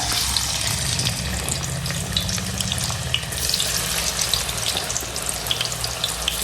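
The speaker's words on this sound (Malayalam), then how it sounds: "ഇത് നമ്മൾ ഇനി ഫ്രൈ ചെയ്തെടുക്കും. അപ്പം നമുക്ക് കുറച്ചായിട്ട് ഫ്രൈ ചെയ്തെടുക്കാം." Boiled elephant foot yam (chena) pieces fry in hot oil with a loud, dense crackling sizzle that runs continuously and close up throughout.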